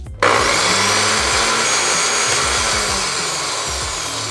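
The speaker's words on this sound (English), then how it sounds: "let's try out a blender. That is a pretty big blender. Blend." A large countertop blender motor starts abruptly and runs loud and steady, a dense whirring roar that continues without pause and alone, with no talk over it.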